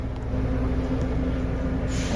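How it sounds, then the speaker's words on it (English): A lorry pulls in on a farm, a steady low diesel rumble with a faint tonal whine, close and constant through the short stretch, with no voices. "Last lorry pulling in."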